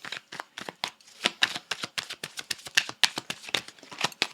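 Tarot cards are shuffled briskly and loudly close by, a rapid run of crisp papery riffles and slaps with no talking.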